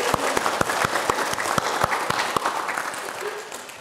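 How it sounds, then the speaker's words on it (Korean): Applause from an audience at a Buddhist dharma talk, a small group clapping in distinct, fairly regular claps that thin out and fade toward the end. "박수 한번 쳐드릴까요?"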